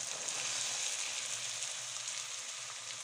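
Mixed vegetables with onion and tomato fry in a hot pan, giving a loud, steady hiss of sizzling oil up close that runs unbroken throughout, with no one speaking.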